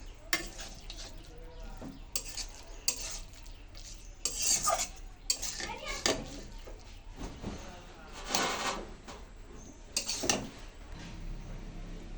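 Cooked greens scraped and scooped out of a pan with a metal utensil in a home kitchen after the stove is turned off; repeated clattering scrapes against the pan over a low steady background hiss.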